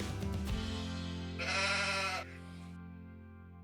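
A single sheep on a large Australian Merino farm gives one clear bleat lasting under a second over a steady, low tonal background.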